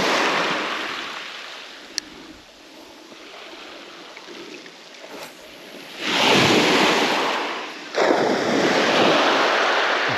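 Waves lap and wash onto the shore at night, with quieter swells first and then two loud surges of surf rushing in close to the microphone, mixed with wind noise.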